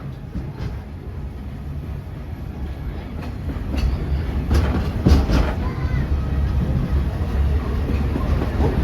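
Walt Disney World Railroad steam train at the Magic Kingdom rolling along the tracks, rumbling low and building louder with rhythmic clacks and a few sharp metallic hits.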